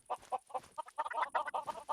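Chickens cluck in the video game DawnCraft, a Minecraft modpack, in a busy run of short, close, bright clucks and squawks that follow one another with barely a pause.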